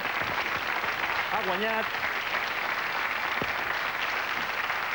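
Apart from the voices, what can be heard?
applause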